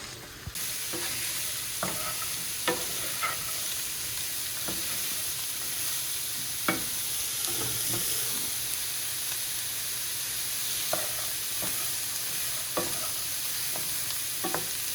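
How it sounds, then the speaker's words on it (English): Mirepoix frying in a pan in a home kitchen, a constant bright sizzle with occasional spoon taps and stirring scrapes, close and steady. "Cook the mirepoix in that"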